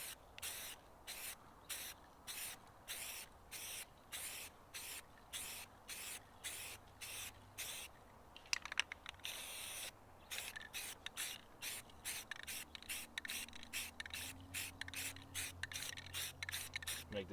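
An aerosol sprays a second coat over a body patch on a BMW E36: faint, short hissing bursts repeat in a quick, even rhythm. The bursts run the whole time, with a low murmur in the background.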